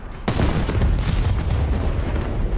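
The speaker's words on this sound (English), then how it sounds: "Was that another PE8 bomb?" A PE-8 bomb explodes in War Thunder tank combat as one sudden loud boom, followed by a long, rumbling roar that stays heavy to the end.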